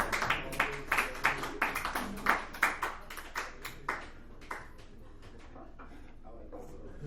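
Small comedy club crowd giving sparse, scattered claps in quick uneven bursts that thin out and fade after a few seconds, then leave a quiet room.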